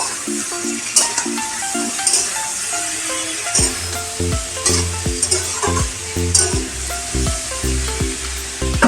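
Cauliflower and potatoes with ground coriander and cumin sizzling in a pan for katla fish curry, stirred with a spatula that scrapes and clinks in a steady rhythm over continuous close frying.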